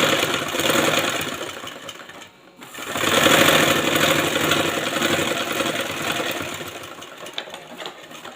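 A sewing machine stitches along the folded edge of a blouse, running in a steady, fast whirring rhythm. It pauses briefly, then resumes and keeps going loud and close.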